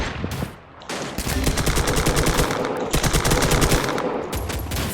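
Gunfire in the mobile shooter Free Fire comes as rapid automatic bursts, loud and close, with brief pauses between volleys and no talking over it.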